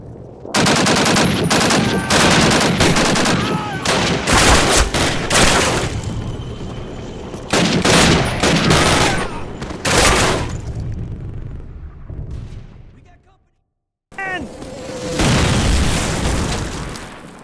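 Mortar blasts and machine-gun bursts from the 2003 Call of Duty shooter, a loud continuous barrage of booms and rapid gunfire that drops out briefly near the end before resuming.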